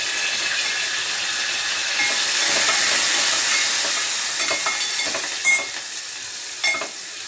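Garlic, curry leaves and green chillies fry in oil over a low flame, a loud continuous hissing sizzle with two sharper spatula knocks near the end, close and without speech.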